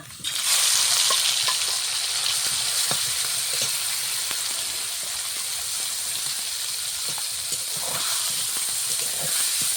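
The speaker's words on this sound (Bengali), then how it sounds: "ওরেও সরিষার তেল দিয়েছি, তেলটা সুন্দরভাবে গরম করে নেব। গরম করে নিলাম, মাছগুলো ঢেলে দেবো।" Small puti fish are poured into hot mustard oil. A loud, dense sizzle bursts up at once and keeps hissing steadily up close, with faint bubbling and spatters throughout.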